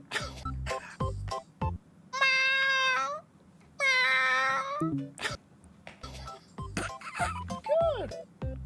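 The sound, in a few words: person imitating a cat meowing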